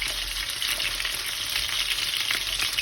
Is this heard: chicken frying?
yes